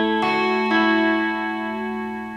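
Clean electric guitar picking the opening riff of a song, a slide then quick single notes ringing out and sustaining, played alone and close.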